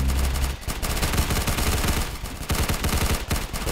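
Rapid gunfire from a P9 weapon in the shooter game Arsenal, loud and dense bursts running almost continuously, with short gaps between volleys.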